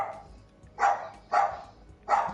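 A dog barks three times at a steady pace, moderately close, each bark short and sharp, with quiet room tone between them.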